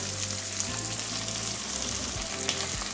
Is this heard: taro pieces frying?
yes